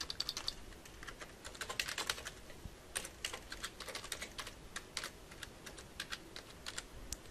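Someone types a login ID and password on a computer keyboard, a steady run of close, crisp key clicks with brief pauses and no talking.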